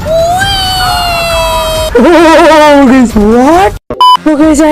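A police car siren in the video game GTA 5 wails loud and close, sweeping up and down in repeated rising and falling cycles, then briefly cutting out and resuming with beeping blips.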